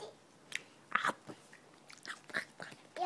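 Crunchy caterpillar-shaped birthday cake is bitten and chewed close to the microphone, giving a string of sharp, quiet crunches and crackles at irregular intervals in an otherwise hushed room.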